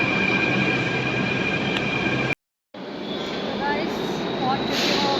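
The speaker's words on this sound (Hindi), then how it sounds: "मेट्रो भी आ गई है, अब लेते हैं मेट्रो और चलते हैं घर की तरफ" Metro train pulling into a station, a loud steady rumble of wheels on rail with faint high squeals, briefly cut off, then continuing as the train rolls in.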